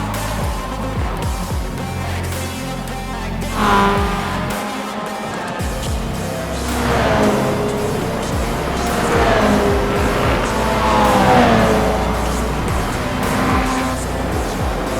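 Race cars drive and pass in the iRacing endurance racing game, a continuous loud engine roar that swells and fades as cars go by, with no talking.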